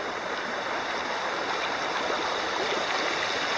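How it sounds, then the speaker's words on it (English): Bemis Stream, a mountain stream along the Appalachian Trail in Maine, flows and rushes steadily at close range, a continuous broadband wash of water with no talking over it. "So this is Bemis stream,"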